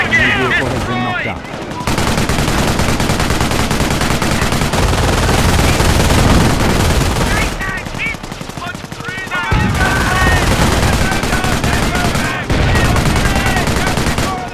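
Heavy, continuous gunfire from a Company of Heroes battle, with dense overlapping rifle and machine-gun bursts that stay loud and close throughout. Brief lulls break the barrage, and shouted soldier voices cut in over it.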